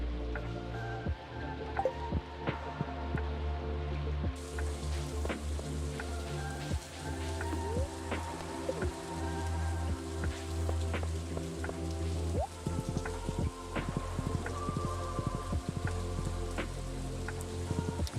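Steady rain from the video game Stardew Valley, a continuous hiss of drops on surfaces with scattered drips, holding level throughout with no talking.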